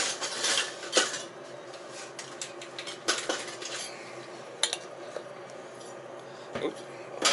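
Jar lids are handled while arthritis salve is being made, giving light metallic clinks and clatters with a few sharper knocks spread over the stretch, close by and fairly quiet with no talking.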